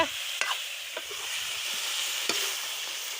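Meat frying and being stirred in a pot at an outdoor picnic cookout, a steady broad sizzle with a few sharp scraping clinks of the stirring utensil, close and fairly quiet, no talking.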